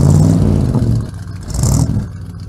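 A 1930 Buick Series 40 hot rod fitted with a newer DeSoto engine revs close by in two loud surges, the motor rising, easing back, then swelling again before settling.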